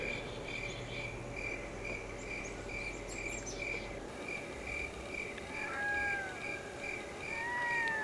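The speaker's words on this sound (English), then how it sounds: "You can hear a red-throated loon squawking" Red-throated loon calls ring out in the distance at night in Myers Inlet near Cape Caution, a few rising, wavering squawks over constant cricket chirping and a steady background drone.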